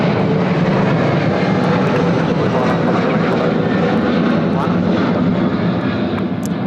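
Emirates A380 airliner departing Sydney Airport, a loud, steady broadband jet roar that stays constant throughout with no breaks.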